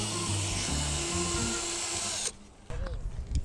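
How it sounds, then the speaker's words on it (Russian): A cordless screwdriver whirs steadily and loudly as it backs screws out of corrugated metal roofing sheet over a fire-damaged bathhouse, then cuts off abruptly, leaving quieter handling noises and rustles. "Мне вот сейчас шуруповерт принесли. Мы сейчас профнастил открутим."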